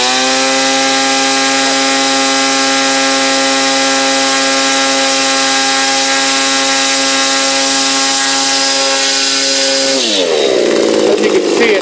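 A red Stihl 27 chainsaw engine runs steady and loud at a high, even idle, close by, then revs and bogs briefly near the end; no one talks.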